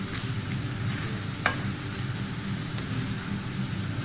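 Salsa sauce simmers and fries in a pan with a continuous even sizzle and bubbling, close and moderately loud, with one brief stir knock near the middle.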